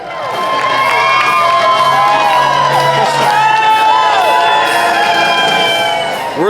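A large crowd at a horror fan convention cheers, whoops and shouts loudly and steadily as people exit a Juliette Lewis panel, with overlapping excited voices filling the space throughout.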